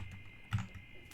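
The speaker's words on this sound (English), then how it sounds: "and then just start typing in apps." Brief typing on a computer keyboard while entering text into a form, a few faint clicks with one slightly louder keystroke in the middle, quiet and close.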